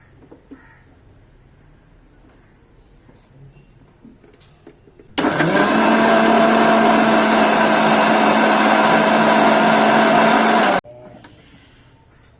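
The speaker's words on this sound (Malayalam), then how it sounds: "നമുക്കിനി മിക്സിയിലിട്ടിട്ടേ നല്ല പോലെ ഒന്ന് അടിച്ചെടുക്കാം" A kitchen mixer grinder blends chiranga juice with milk, starting abruptly after a quiet stretch and whirring loud and steady for about six seconds before cutting off.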